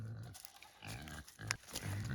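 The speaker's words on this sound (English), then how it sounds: "let's go check on the pigs" Pigs grunting on an Alaskan homestead farm, a few close, low snorting grunts in short bursts with a brief higher squeal in the middle.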